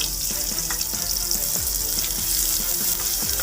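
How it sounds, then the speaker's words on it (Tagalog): Onion and ginger fry in a pan for chicken adobo, a steady bright hiss of hot oil with occasional soft taps and stirs, close and continuous without voices. "Saka natin lagay ang sibuyas. Kaya ating luya."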